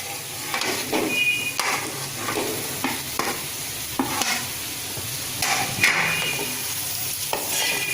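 Egg podimas fries in a pan with a constant crackling sizzle while a spatula scrapes and taps the pan in an irregular stirring rhythm, close and unaccompanied by speech.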